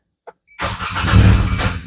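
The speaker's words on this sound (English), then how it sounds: "And then when I try to start the car, I get long cranks." A Hyundai/Kia 2.0 Nu engine with a misplaced exhaust camshaft from a faulty VVT sprocket and timing chain cranks loudly and at length after a brief click, a close, continuous starter-driven churn that struggles without catching.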